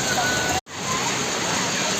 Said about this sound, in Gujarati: જોરથી વરસાદ ચાલુ છે